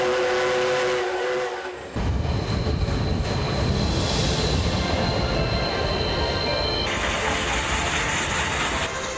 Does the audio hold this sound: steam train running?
yes